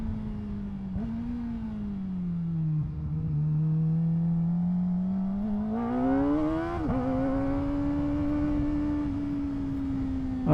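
A Kawasaki ZX4-RR motorcycle's four-cylinder engine revs up close, its steady pitch rising and dipping through several throttle blips with sharp climbs near the middle and end, loud and continuous with no talking.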